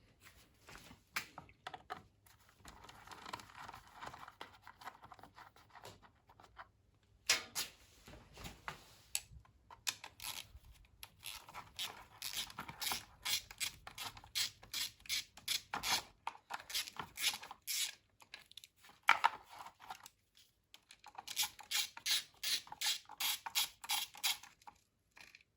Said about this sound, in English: Let's take apart the carburetor.